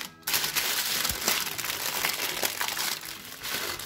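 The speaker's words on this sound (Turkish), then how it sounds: "Kenarlarını siliyorum ve üzerine yağlı kağıtla kapatıyorum." Parchment paper crinkles as it is pressed over a container of homemade sugar-free strawberry ice cream, a steady close crackling rustle that runs the whole time with a few sharper crunches.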